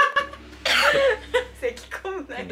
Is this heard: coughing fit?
yes